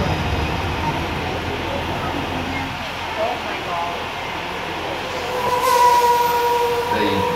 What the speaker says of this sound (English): Universal Tram is winding its way through a very rough, narrow trail in Skull Island